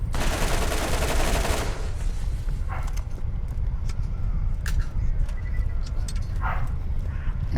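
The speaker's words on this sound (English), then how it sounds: "I'm getting just distracted because I'm getting shot" Gunfire in the video game Borderlands opens with a dense, loud burst, then continues as rapid scattered shots under steady background noise.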